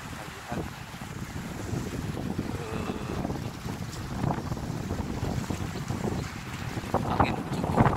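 Strong gusty wind buffets the microphone near a collapsed bridge in Palu, a constant low roar with surging rumbles and occasional knocks throughout.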